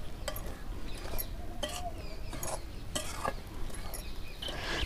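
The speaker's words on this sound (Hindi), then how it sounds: "इस तरह से हम धीमी आंच में इसे भून लेती हूँ।" Bajra flour dry-roasting over a low flame for bajra ladoo, with a spatula scraping and pushing it around the pan in irregular strokes and occasional light clinks, soft and close, with no sizzle and no voices.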